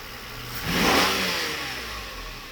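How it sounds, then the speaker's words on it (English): Mercedes V12 engine revved by hand from under the hood during a throttle test, rising from idle into a brief loud rev that swells and then eases back toward idle, with no talking. "I can actually accelerate it from under the hood for a second, but not for too long, otherwise I'll get it into limp mode."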